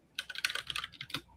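Quick keystrokes clatter on a computer keyboard as a file is written in Notepad from a command prompt, close up and alone.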